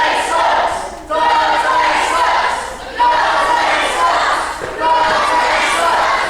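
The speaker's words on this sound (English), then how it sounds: "Crowd letting Dante know exactly how they feel." Loud wrestling crowd at a British live event roaring and jeering at the wrestler Dante in three long swelling waves, with brief dips between surges.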